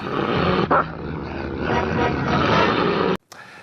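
Dog in a Côte d'Ivoire news segment, giving a growling, roaring bark-like sound over several seconds, loud and close, ending in an abrupt cut.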